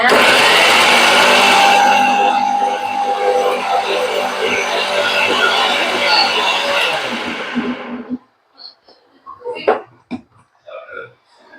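A blender grinds lemon and mint for a mojito in a loud, steady whir that runs for about eight seconds before cutting off, followed by a few short clunks and handling noises.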